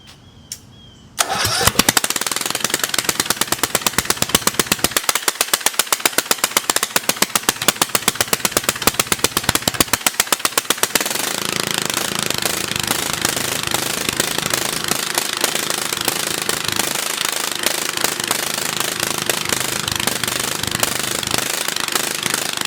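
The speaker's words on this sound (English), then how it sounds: "Okay, time to do some mowing." Old Yazoo lawn mower engine starting and running while mowing, a loud, close, rapid rough chatter that settles into a steady continuous roar.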